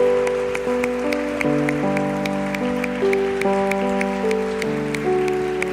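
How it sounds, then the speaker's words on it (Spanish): A church congregation claps along during a worship service, a steady rhythmic patter of many hands beneath loud sustained music. "Dale una ofrenda de palmas al Rey de Reyes"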